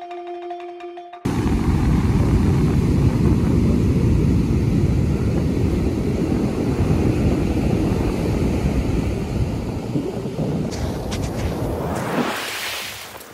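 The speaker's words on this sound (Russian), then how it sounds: "В нашем случае это Атлантический океан." Atlantic Ocean waves on the Benin coast roll in as a loud, continuous roar of surf with heavy wind buffeting. The roar starts abruptly after a brief quiet opening and fades near the end. No one speaks.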